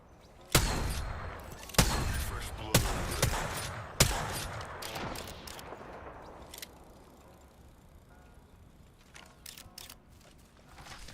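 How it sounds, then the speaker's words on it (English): Gunfire from an enemy squad in Apex Legends, with a few loud, sharp shot bursts early on that fade into softer distant pops and mechanical clicks. "Those shots came from a different team."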